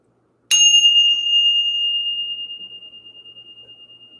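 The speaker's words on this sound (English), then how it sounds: "That was a nice tolling of the bell." A single small bell is struck once, giving a bright clear ring that sustains and slowly fades in a long pulsing tone, alone in an otherwise quiet room.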